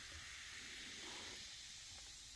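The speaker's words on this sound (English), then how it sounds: "You hear it fizzing, you guys." Fizzing of a Coca-Cola Dreamworld limited edition soda, a steady, quiet carbonated hiss that runs throughout the short stretch with no one speaking.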